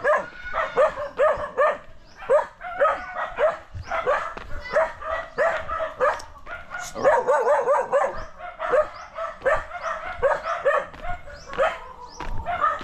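Several dogs bark continuously and excitedly nearby on farmland in the Philippines, overlapping yaps and woofs with a few whimpers, no pauses in the commotion.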